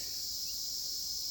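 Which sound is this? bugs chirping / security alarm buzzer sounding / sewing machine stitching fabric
bugs chirping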